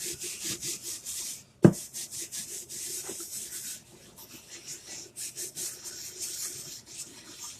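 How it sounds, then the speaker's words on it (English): A rag buffs Chalk Couture wax into a surface with soft, rhythmic rubbing strokes. The strokes are close and fairly quiet, with one sharp knock early on. "I do have a rag that I use for buffing."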